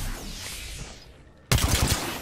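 Gunfire in a video game shooter: a loud burst of rapid shots cuts in sharply after a quieter stretch of background noise, the cracks coming in quick succession with no talking.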